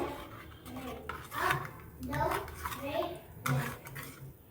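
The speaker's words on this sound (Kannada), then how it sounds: "ಚೆನ್ನಾಗಿ ಉಪ್ಪು ಕರಗೋವರೆಗೆ ಮಿಕ್ಸ್ ಮಾಡ್ಕೋಬೇಕು" Salt being stirred into jeera tambuli in a vessel, soft, close clinks and scrapes of a spoon against the pot in a few uneven strokes, with quiet voices in the background.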